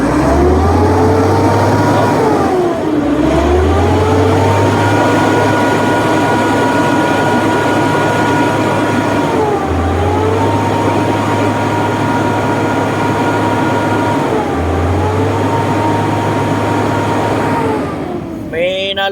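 Diesel engine with a damaged injector idling steadily in a parking area, a continuous close drone with low repeating pulses and a few slight speed dips, running alone without talk.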